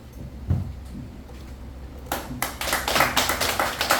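An audience gives scattered applause to welcome a speaker, starting with a few quiet taps and swelling into a fuller burst of clapping in the second half.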